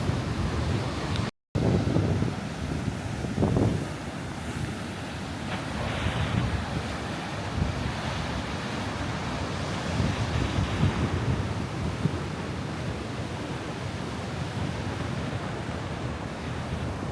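Ocean surf and white water roll in at a Half Moon Bay beach below a cliffside in California, a continuous loud roar of breaking waves mixed with heavy wind buffeting the microphone.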